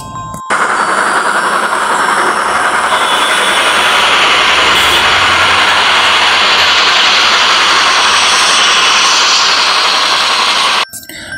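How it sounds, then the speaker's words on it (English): A steam train rumbles and clatters loudly and continuously, with rhythmic mechanical chuffing and broad hissing noise, starting and stopping abruptly. "Train driven by steam engine."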